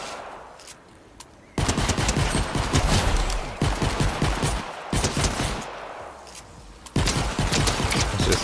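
Rapid gunfire from a pistol in Fortnite Save the World comes in several loud bursts after a brief quiet start. Quick sharp cracks repeat densely, with short pauses between bursts.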